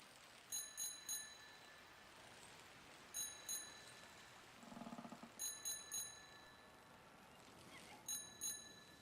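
Bright bell chimes ring in quick bursts of about three strikes, repeating four times over a faint background ambience in the video game Season: A Letter to the Future.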